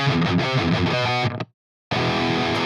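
A metal electric guitar played through a free distortion plugin chugs out thick, heavily saturated riffs, loud and close, then cuts to brief silence before the distorted tone returns.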